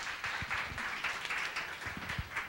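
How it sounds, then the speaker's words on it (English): An audience at an art collecting panel talk applauds its speakers with a brief patter of clapping hands. The clapping is moderately loud and there is no talking. "Please give a warm applause to our speakers."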